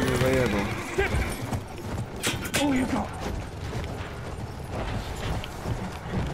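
Horse hooves clip-clop in a Battlefield 1 multiplayer match on the Sinai Desert map, a steady rhythm of hoof strikes mixed with game noise while someone talks over it.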